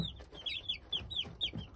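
Kuchinsky chicks being raised give a run of high, repeated peeping chirps at a steady pace, fairly close and moderately loud, with no talking.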